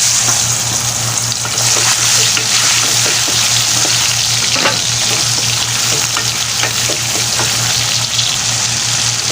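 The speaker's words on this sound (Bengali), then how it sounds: "এখানে আমি প্রথমেই চিংড়ি মাছটাকে আগে ভেজে নিচ্ছি" Shrimp fry in hot oil in a home kitchen as the first step of a luffa gourd and shrimp curry, giving a loud, steady, close sizzle with occasional crackles and stirring scrapes throughout.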